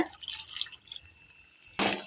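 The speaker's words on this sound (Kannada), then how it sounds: "ಇದು ಮಿಕ್ಸರ್ ಜಾರ್ ಇರೋ ನೀರೆಲ್ಲ ಹಾಕ್ತೀನಿ ನಾನೀಗ." Leftover water from a mixer jar tipped into a cooking pot makes a quiet, brief trickle and a few drips, followed by a short louder splash at the end, with no voices.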